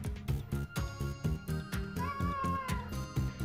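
A kitten meows repeatedly at close range, a string of short mews followed by one longer, drawn-out cry.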